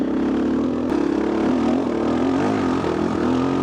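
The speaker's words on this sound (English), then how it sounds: "Ooh, that torque is so good on this bike." A vintage dirt bike engine drones steadily close by while riding, a loud continuous buzzing hum that rises and falls slightly in pitch, with no talk.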